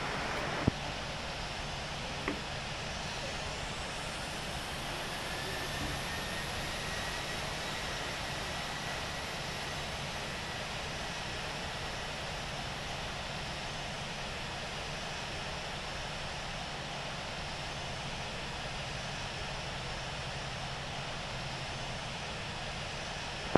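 An airliner takes off on runway 27 in the Infinite Flight game, heard as a steady broadband roar like a jet at takeoff power that holds level from start to end, with a couple of faint clicks and no voices.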